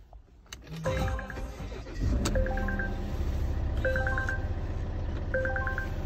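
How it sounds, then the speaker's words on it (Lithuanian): A Volvo V90 with a 2-litre, 140 kW diesel engine cranks and catches, then settles into a low idle rumble, while a series of dashboard warning chimes repeats over it. "Taip, užvedam variklį."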